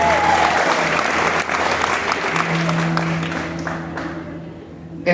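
A church congregation claps steadily and loudly, dense applause filling the room for about five seconds with a slight fade near the end and a few louder claps at the close.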